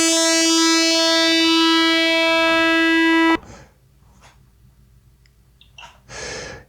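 A buzzy FM-synthesized half-sine tone with rich harmonics holds steady for a few seconds, then cuts off abruptly, leaving near silence with a few faint breathy noises.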